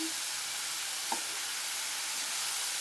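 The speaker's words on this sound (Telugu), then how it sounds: "ఇలా బెల్లాన్ని యాడ్ చేసుకొని ఒక 10 నిమిషాలు మీడియం ఫ్లేమ్లో పెట్టి ఇలా తిప్పుతా దీన్ని ఫ్రై చేసుకోవాలండి" Grated coconut and jaggery stir-frying in a pan over a medium flame give a steady, loud sizzling hiss throughout, with one faint scrape of a spatula partway through and no talking.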